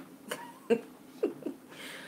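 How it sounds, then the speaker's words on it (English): Three or four short, sharp coughs from one nearby person, spaced unevenly with quiet breaths between. "Because I'm coughing."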